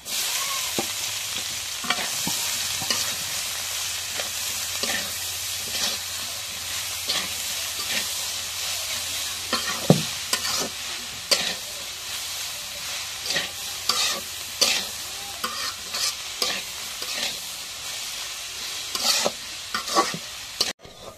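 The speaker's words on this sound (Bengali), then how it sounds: "মরিচ রসুন ভাজা হয়ে গেছে, শাকগুলো দিয়ে দিই।" Leafy greens tossed into a pan with already-fried garlic and chilies crackle and sizzle continuously, punctuated by repeated spatula scrapes and stirring clatter close by.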